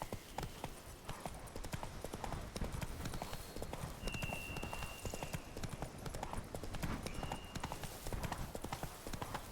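Horse hooves in The Witcher 3 video game, a rapid rhythmic clip-clop of galloping that continues steadily throughout, moderately loud and close, with soft game ambience and brief tonal chimes beneath.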